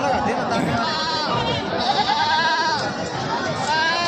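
Goats bleat at a goat market in Jaswant Nagar, Uttar Pradesh, with wavering calls rising above a dense crowd murmur, while someone talks nearby throughout.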